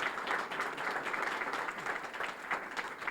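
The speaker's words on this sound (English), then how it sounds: "So let's give a big round of applause to Dan Govro." Audience applause at a county growth association legislative forum, a dense, steady patter of many hands clapping at moderate loudness throughout, with no voices over it.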